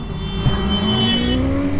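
A 2021 BMW S 1000 R M Sport motorcycle engine heard while riding, a loud, close, steady drone whose pitch climbs slowly as the bike accelerates, with no speech.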